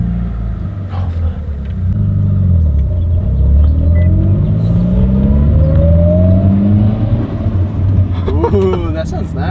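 A Mitsubishi Evo engine with a blow off valve revs up loudly, the rising tone climbing and falling in pulls, heard close over a deep rumble, with voices talking near the end.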